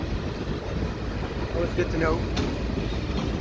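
CN freight train boxcars roll past with a low, continuous rumble and rail noise, while a person speaks briefly over it.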